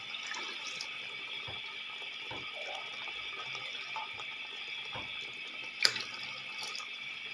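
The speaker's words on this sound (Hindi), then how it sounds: "ये मैं 3 गिलास पानी में पा दूँगी" Water poured into a pot of rice gives a steady, close stream of running liquid for several seconds, with a faint clink near the end and no talking.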